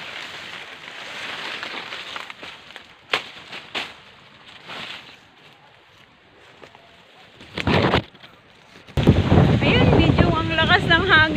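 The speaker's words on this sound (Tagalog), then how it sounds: "Kahit mainit ang panahon ay malakas yung hangin." Strong wind blowing outdoors on a hot day at a rural pepper-tree plot, roaring and buffeting the microphone in gusts, with a voice speaking over it near the end.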